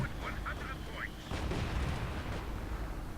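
A grenade goes off in the Company of Heroes 2 battle, a sudden low boom that cuts in mid-clip, then a rumbling wash of combat. It sits over quiet background and a few faint high tones beforehand.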